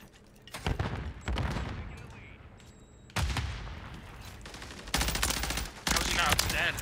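Rapid bursts of gunfire in the video game Call of Duty: Modern Warfare 3 ranked play, several loud volleys separated by short pauses, with faint talk underneath.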